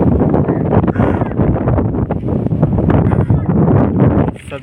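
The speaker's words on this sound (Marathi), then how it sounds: "हवा पण खूप चालू आहे" Strong wind blowing outdoors beside farm fields and a village road, a loud steady rushing buffet against the microphone that fills the whole stretch, with brief gusty swells.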